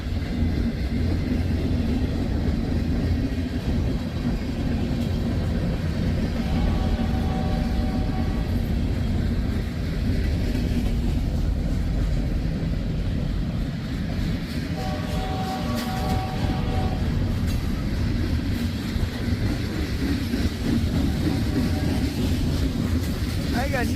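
A CSX locomotive rumbling past at steady loudness with a low continuous roar, two short horn-like tones sounding midway, and a voice talking over it.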